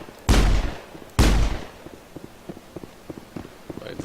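Two loud gunshots roughly a second apart in the Mass Effect video game, each with a sharp blast and a decaying tail, followed by quieter scattered clicks and footstep-like taps.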